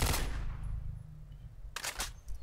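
Submachine gun fire in a shooter game: a dense burst at the start fading away, then a second short burst of rapid shots about halfway through, fairly loud with no talk.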